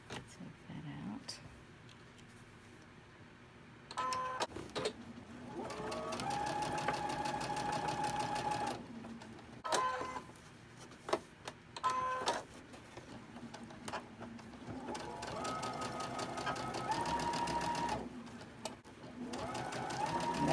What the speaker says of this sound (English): go real slow because your sewing machine may hesitate